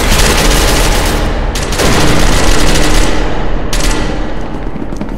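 Dense, continuous automatic gunfire from an online multiplayer match of SCP: Secret Laboratory, loud and sustained throughout with a few heavier bursts layered over the rattling fire.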